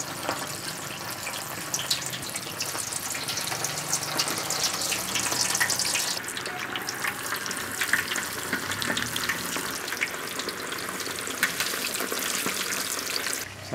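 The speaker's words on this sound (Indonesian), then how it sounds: "Bila minyak dah betul-betul panas, kita goreng dia seekor keping demi sekeping." Pieces of jenahak fish frying one at a time in very hot oil, a steady close sizzle and crackle running the whole way through with faint clinks and water-like splashes, no talking.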